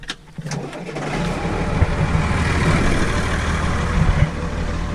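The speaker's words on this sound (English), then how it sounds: "So we're gonna fire up the auger tractor." A tractor used to run a grain auger during a corn harvest in southwest Iowa starts up, and its engine settles into a loud, steady running rumble close by.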